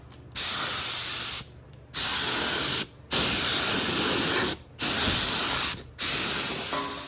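An aerosol spray paint can coating a Ford F-350 truck frame, four long loud hissing bursts separated by brief pauses, close up with no talk.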